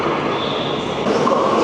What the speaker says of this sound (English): Oh, look at the trains.